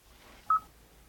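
A single short telephone keypad dial tone beeps once, clear and close, while a call is placed manually through the phone screen of Android Auto in a car. Faint background hiss surrounds it, and no one speaks.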